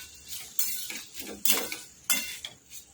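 A spoon mixes boiled potatoes with lemon juice and coriander in a bowl, giving three or four distinct scraping, clinking strokes close by, with no speech.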